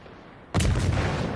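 A Hatsuharu destroyer launches torpedoes in World of Warships, giving one sudden, loud, heavy thump-like boom that cuts in after a quiet moment and then rumbles on steadily to the end.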